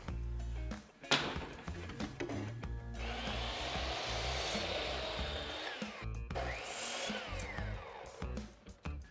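Wood base pieces for a DIY planter box are cut with a power saw, giving two long rasping, whining passes with knocks and handling clatter around them, close and fairly loud.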